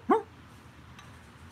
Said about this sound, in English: Dog's having a dream again.